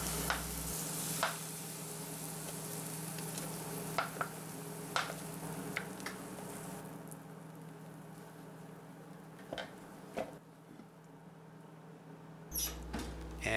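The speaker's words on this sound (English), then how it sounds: "one of the best parts of making cornbread is the sizzle" Cornbread batter sizzling in a hot cast iron pan, a steady low hiss with scattered soft pops and crackles that fades slightly partway through, heard alone without talk.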